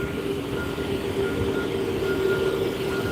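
A train, number 5858, pulls out of a station in Gloucester with a steady rumble and a faint tonal whine. The sound holds at an even level throughout, with no one talking.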